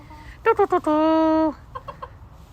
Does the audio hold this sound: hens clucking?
yes